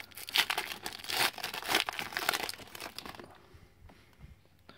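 Foil wrapper of a 2015 Panini Prizm NFL football trading card pack being torn and crinkled open, loud close crackling bursts that die down to quiet handling.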